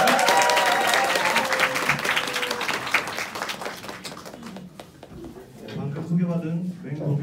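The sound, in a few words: audience applause and cheering welcoming speaker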